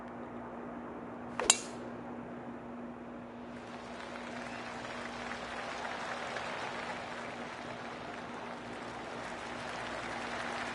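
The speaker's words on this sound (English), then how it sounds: "I can hear the golf claps around the course" Scattered, soft clapping from a distant golf course gallery rises and lingers over a steady outdoor hum, with one sharp click early on.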